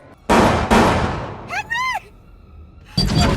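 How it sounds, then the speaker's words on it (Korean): Two loud, sharp gunshots close together inside a house, then a brief warbling tone and another loud bang, as in a Netflix thriller action scene. "그 순간 집에서 들려오는 총소리."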